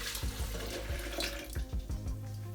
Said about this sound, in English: to my dry oats, I'm going to go ahead and pour in 2 full cups of cold water